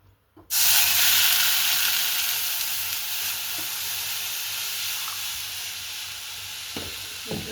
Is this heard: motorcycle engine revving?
no